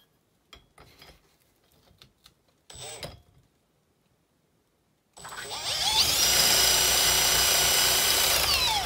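A Fiat 126 BIS engine is started after a few quiet clicks and rattles, catching at about five seconds and then running at a steady, loud idle with a bright whine on top.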